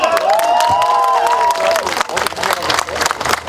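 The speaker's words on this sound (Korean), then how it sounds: "자, 박수 쳐주세요." A crowd at an outdoor election campaign rally at a street intersection claps and cheers with steady, dense applause, and a high voice rises briefly over the clapping near the start.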